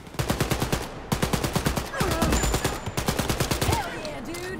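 Turret gunfire in Wolfenstein: Youngblood: fast, loud bursts of machine-gun fire rattle out in several sustained volleys separated by brief gaps.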